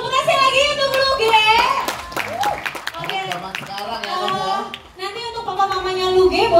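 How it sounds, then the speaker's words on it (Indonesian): Audience at the AMB2018 children's event claps for a young performer named Luge, sharp scattered handclaps mixed with lively children's and adult voices talking over them. "Tepuk kasih lagi untuk Luge."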